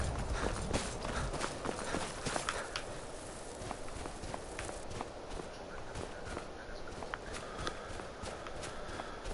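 A character in the Skyrim video game runs on foot, producing a fast, steady series of crisp footsteps that continue throughout at moderate volume, with no talk over them.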